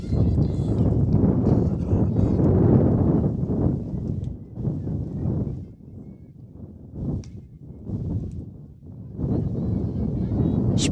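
Strong wind buffets the microphone at an outdoor high school girls' soccer game, roaring in heavy gusts that ease and return, with a commentator's voice audible at times.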